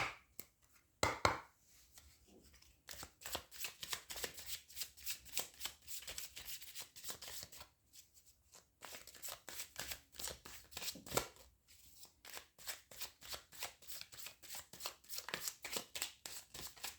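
Tarot cards are shuffled during a reading in quiet, rapid bursts of papery riffling and flicking close by, repeating in uneven runs with short pauses between them.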